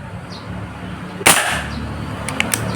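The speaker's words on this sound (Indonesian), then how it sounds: "Tembakan keempat" A single sharp shot from a Yumaja Sempiternal Polygon air rifle cracks out once, close and loud, followed by a brief ringing tail and a few faint clicks.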